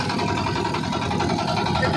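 A boat's engine drones steadily as the boat moves along, a continuous mid-pitched hum with a faint vibrating rattle, close and unchanging.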